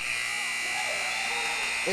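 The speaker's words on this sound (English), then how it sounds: "Can't beat the buzzer." A loud, steady electronic buzzer at a high school boys basketball game between Hillsboro and Southeast of Saline sounds to end the first half, droning continuously throughout with faint gym noise beneath.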